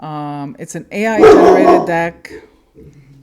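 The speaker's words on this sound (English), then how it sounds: "That's my dog." A pet dog barks a few times indoors, apparently at something passing on the street outside, the barks overlapping and following a person talking.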